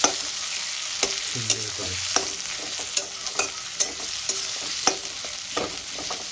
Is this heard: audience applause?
no